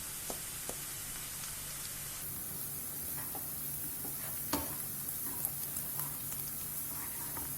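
Onions and green chilies fry with asafoetida in a pan for a leftover-rice kanda batata dish, giving a continuous hissing sizzle with occasional stirring clicks and one sharper scrape, no talking.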